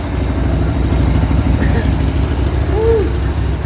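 Engine idling on its first start after a brand-new, untuned carburetor was fitted, a steady close chugging drone running throughout, with a couple of brief faint tones over it.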